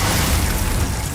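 A short, dense explosion from the Bombarda spell in Hogwarts Legacy, a loud low rumbling blast lasting about a second with no voices.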